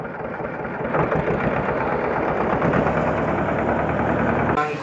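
A tractor engine idles nearby in a village setting, a steady loud rumble holding for several seconds before cutting off abruptly near the end.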